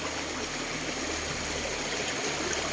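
A river flows through a forest, its steady rushing and splashing water forming a continuous, even wash of sound with no voices.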